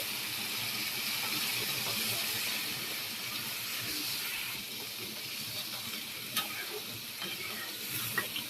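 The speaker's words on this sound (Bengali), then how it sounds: "আমার এই যে মশলা কষানো শেষ, এখন পানি দিয়ে দিব এটার মধ্যে।" Fried spice masala in a pan hisses and sizzles steadily as water goes in, with a broad, even frying sound throughout and a few faint utensil clicks near the end; no one talks.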